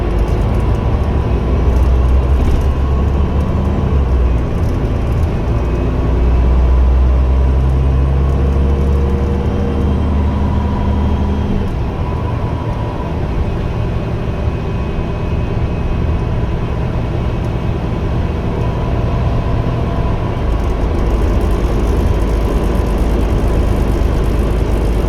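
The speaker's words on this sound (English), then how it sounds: "As my bus departs" An Iveco Metro bus pulling away, heard from on board as a continuous low engine rumble with shifting tones as it gathers speed, steady and fairly loud.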